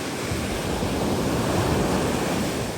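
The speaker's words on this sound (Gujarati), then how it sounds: "બોલો બાપ રે બાપ કેવા મોજા થઈ જાય યાર" Sea waves crash along the shore in a steady, loud, unbroken roar of surf that fills the whole moment, with no voices.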